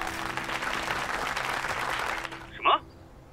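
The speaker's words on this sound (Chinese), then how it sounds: "掌声欢迎。" Applause at a charity auction during a banquet, a dense burst of clapping that fills the room for about two seconds and then cuts off, followed by a short voice.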